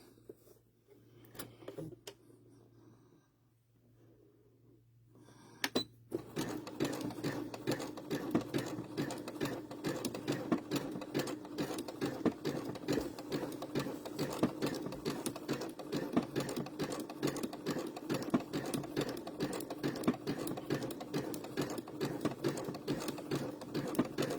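A sewing machine stitches an appliqué apple onto a dish towel, starting after a few seconds of quiet handling, then running in a steady rapid loud rattle that continues to the end.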